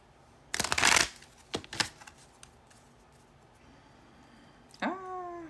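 A deck of tarot-style cards is shuffled in a quick riffle burst, then tapped and cut with a few short handling clicks before a cat meows near the end.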